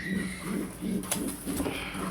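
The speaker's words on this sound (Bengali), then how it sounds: "এই হচ্ছে মাদি কবুতরটা" A female pigeon sitting in a clay nesting pot before laying eggs coos in a series of low, rhythmic pulses, close by and fairly clear against a faint background hiss.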